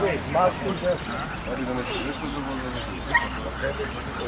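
Several Macedonian shepherd dog puppies, aged three to six months, yip and bark in short excited bursts, with some whimpering, amid a busy crowd and people talking nearby at a dog show.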